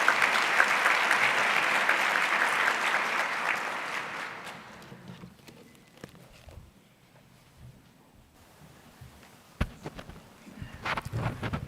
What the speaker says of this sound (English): can I have a final round of applause for our great advisors?